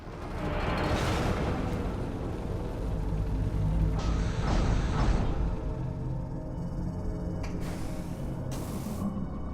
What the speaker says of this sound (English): Fire a missile into it. Fixes everything.